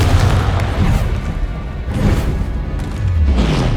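Repeated booming spell blasts from combat in the video game Hogwarts Legacy, a Confringo fire spell, with deep rumbling impacts layered over continuous loud battle noise.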